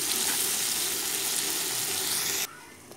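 Potatoes fry in a pan with a dense, bright sizzle that fills most of the clip close up, then drops suddenly to a quieter simmer near the end.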